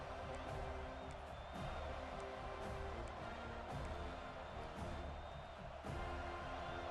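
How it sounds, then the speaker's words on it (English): A college football stadium crowd at Florida State versus Wake Forest roars steadily on a third-down defensive stand, a distant, sustained wash of cheering that rises slightly, heard faintly beneath talk. "Decibels rising as the crowd gets behind this defense on third down."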